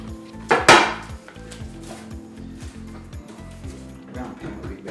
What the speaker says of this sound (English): I'm gonna get this on the sheet pan